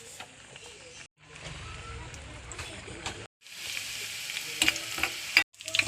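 Shallots and curry leaves temper in hot coconut oil in a pan with a bright, crackling sizzle. The sizzle swells and breaks off in short bursts between brief silences and grows louder toward the end.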